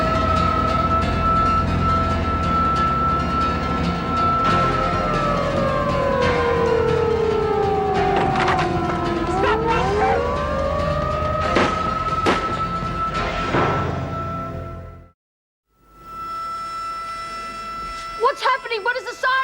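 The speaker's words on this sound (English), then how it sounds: "What does the siren mean?" A loud wailing prison alarm siren rises and falls over about fifteen seconds, with people talking underneath, then cuts out briefly before other voices resume.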